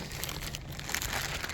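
Plastic packaging crinkles and rustles close up, continuously, while a motorcycle tail bag is unwrapped.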